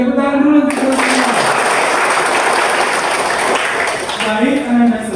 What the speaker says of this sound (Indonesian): tepuk tangan dulu untuk semua